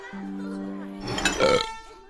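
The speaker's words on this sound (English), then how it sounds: "Ralph burps loudly in the dining hall" A long, loud, low burp from a Horrid Henry cartoon character, with a steady tonal drone that breaks into a rougher, louder finish near the end.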